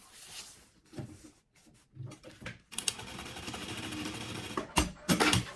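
A sewing machine runs in bursts while stitching a strap onto a sublimated maternity kit piece, with short stops and starts early on, then a long, steady close-up run broken by a brief pause.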